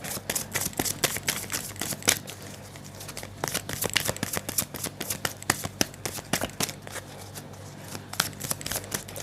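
Tarot cards spread out by hand, a dense run of quick papery flicks and slides lasting throughout, close and fairly quiet.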